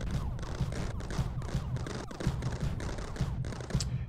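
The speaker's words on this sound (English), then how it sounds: "They keep shooting around this corner." Defensive turrets in the Mindustry video game fire a steady, rapid stream of gunshots, with the bursts repeating evenly without a break.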